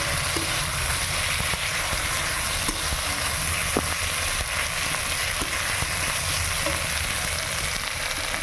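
Ginger-garlic paste and green chili paste fry in hot oil for an egg curry, a steady close sizzle with occasional soft scrapes of stirring.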